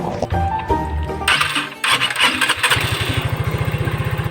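A vehicle engine is cranked and fires up after its fuel pump wiring was repaired, catching into a loud, steady, rapid idle close by.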